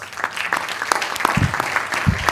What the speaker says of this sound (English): Now, give a harder round of applause